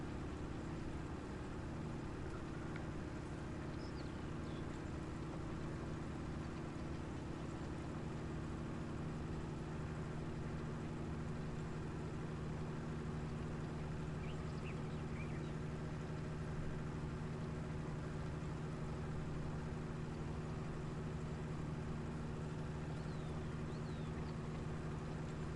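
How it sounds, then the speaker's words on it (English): A CLAAS tractor of around 240 to 250 hp works a field, its engine droning in a steady, even hum throughout, moderately distant, with no voices. "Very nice engine noise to the CLAAS."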